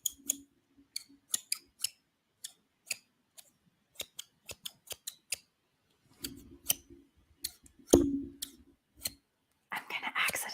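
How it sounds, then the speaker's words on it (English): Close, quiet scissors snip repeatedly in an intimate setting, sharp crisp cuts arriving irregularly in clusters with pauses between, while a voice whispers softly at times. "Okay, we're gonna try scissors."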